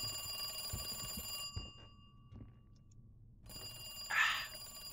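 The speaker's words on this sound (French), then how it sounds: "Gaston, il y a le téléphone qui sonne." A telephone rings in the Resident Evil 2 Remake video game, a bright electronic ring heard twice, first under a busy background that cuts to near silence, then a second loud burst near the end.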